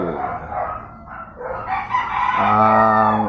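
A rooster recovering from illness crows loudly and close by, one long drawn-out call rising to a sustained, strained finish, in the morning.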